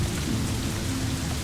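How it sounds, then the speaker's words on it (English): Steady rain falling in the video game The Elder Scrolls IV: Oblivion, a continuous dense hiss with a low rumbling undertone, unbroken throughout and with no voices. "it is raining again"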